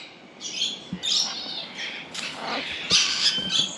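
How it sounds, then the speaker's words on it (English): A young pair of green-winged macaws at a bird breeder's aviary give several harsh, raspy squawks in quick succession, close and fairly loud, with no talking. "Green wing macaws. Check that beak out."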